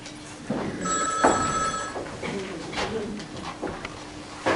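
A telephone rings on stage during an amateur theatre troupe's comedy performance, a bright electronic ring with clear tonal harmonics lasting about a second, heard amid room noise, shuffling and faint voices of the actors.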